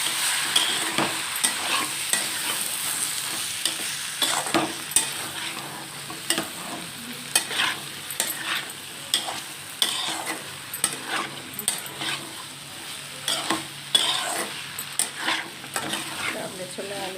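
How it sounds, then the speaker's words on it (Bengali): Spice paste with ginger is stir-fried in a pan for a kabuli chana, potato and yogurt ghugni. Rhythmic scraping and clinking strokes sound close over a continuous sizzle. "মশলাটা দিয়ে একটু ভালো করে কষাতে হবে।"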